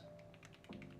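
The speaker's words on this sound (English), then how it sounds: "I wonder if you guys can hear me clicking away" Quiet, rapid clicking of a computer keyboard, a string of light taps in quick succession heard faintly and close up.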